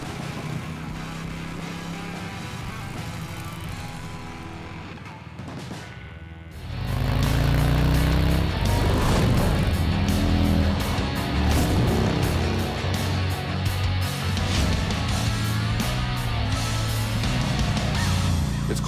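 Harley-Davidson motorcycle with a four-valve-per-head Milwaukee Eight engine: a quieter running stretch, then a sudden loud, sustained engine roar from about seven seconds that holds steady with rumbling low tones to the end.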